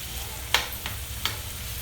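Turkey and potato goulash sizzles quietly in a pan while it is stirred. Soft frying hiss runs throughout, with a few light scraping taps from the utensil.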